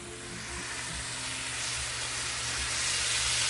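Beef stock sauce heating toward a boil in a Lodge Cook It All cast iron pan, giving a steady, broad sizzling hiss that grows slightly louder and stays continuous throughout.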